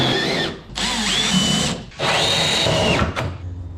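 A power drill bores out spot welds on the steel roof of a Mk2 Jetta coupe during a sunroof delete, in three loud, close, whining bursts separated by brief pauses.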